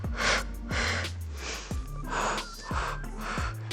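A person breathing in and out in a slow, steady rhythm during a home pilates exercise, with several audible breaths in close succession and no talk over them.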